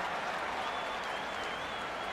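A crowd at a Gaelic football match claps and cheers for a scored point: dense, steady applause, heard from a distance and fairly quiet throughout.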